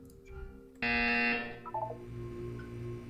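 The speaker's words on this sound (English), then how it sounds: "When you hear the buzzer, look down at the floor." A loud electronic buzzer from a Portal 2 test chamber blares for about half a second, then a short melodic chime trails off over quiet background game music.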